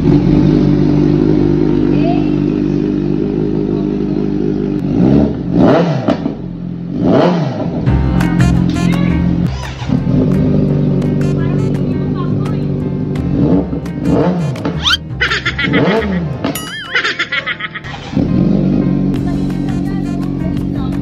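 A motorcycle fitted with a Renegade aftermarket muffler revs repeatedly in short, sharp bursts over a steady idle, loud and close, at a motorcycle shop.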